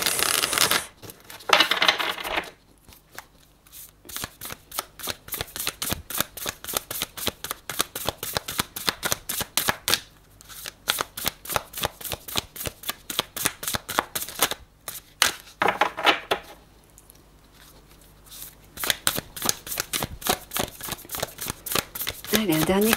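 Oracle cards being shuffled and drawn, a long run of crisp, rapid riffling flutters in repeated bursts, close and fairly loud, with brief pauses between shuffles and no talk over it.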